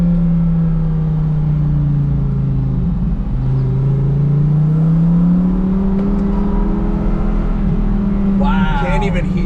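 A 2021 Lamborghini Huracan V10 with an FI exhaust idles with its valves closed, a subdued steady engine hum with small rises and dips, and a brief squeak near the end.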